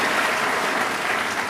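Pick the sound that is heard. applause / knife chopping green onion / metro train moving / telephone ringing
applause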